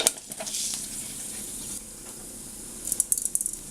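Fenugreek seeds spluttering in hot coconut oil while tempering Kerala seasoned buttermilk: a steady close sizzle with brief crackles early on and a cluster of sharp pops near the end, with no voices.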